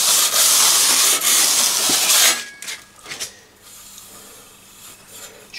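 Sandpaper held flat and rubbed back and forth along the edge of a new trowel to remove burrs: a dense, loud rasping hiss fills the first two seconds, then gives way to quieter, scattered scraping strokes.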